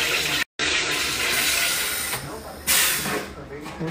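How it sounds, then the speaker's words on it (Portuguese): A home sparkling water maker forces gas into chilled tap water with a loud, steady hiss that cuts out briefly and then resumes, ending in a brighter burst of pressurized gas. "Comprou um negócio pra fazer água com gás."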